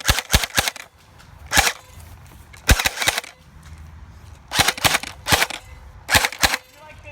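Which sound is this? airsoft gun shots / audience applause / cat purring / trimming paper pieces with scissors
airsoft gun shots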